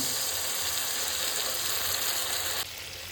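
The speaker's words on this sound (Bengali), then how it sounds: "মশলা কষানো হয়ে গেছে, এবার মাখো মাখো হবে, তাই একটু জল দিয়ে দিলাম।" Water poured into a pan of sizzling fried spice masala for a fish curry, a loud and steady hiss of frying that drops abruptly in level near the end.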